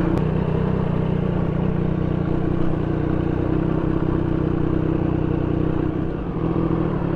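A 2024 Triumph Street Triple with a loud aftermarket exhaust, a steady, close engine roar holding throughout with no pauses and a slight dip near the end.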